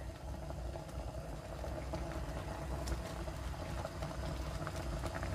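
Water at a rolling boil in a pot on a kitchen stove, a steady close bubbling rumble with scattered small pops throughout, alone and without talk.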